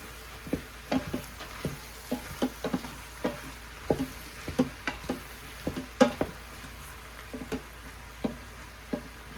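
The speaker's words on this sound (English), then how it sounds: "So you're just going to give this a stir, let your butter get to the bottom." Onions and mushrooms frying in butter in a pan while being stirred, with a faint steady sizzle under repeated close scraping and knocking spoon strokes at an irregular rhythm.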